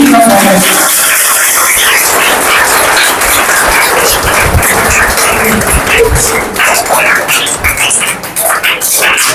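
A loud crowd claps for Samaj Ratna award winners at an Independence Day ceremony, a sustained wash of applause that stays strong throughout and thins slightly near the end.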